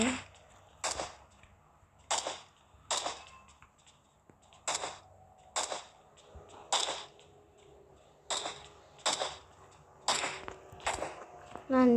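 Gunfire in the mobile game PUBG Mobile: about a dozen sharp, separate shots crack at irregular intervals over a quiet background, with faint voice sounds between them.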